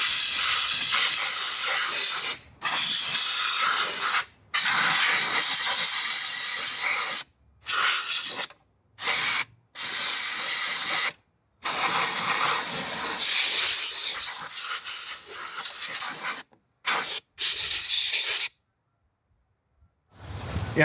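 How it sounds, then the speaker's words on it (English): Compressed air blasts off a Snapper rider mower shifter in long hissing bursts, followed by sprays of chain lube. The bursts are separated by short silent gaps, and the hissing is close, harsh and loud. "We're just going to blow it off and throw a little lube on it."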